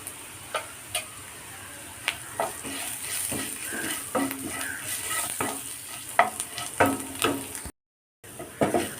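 Onions, chillies and curry leaves fry in a pan with a steady, close sizzle, broken by frequent stirring clicks and scrapes, for a Kerala-style chammanthi; no one talks.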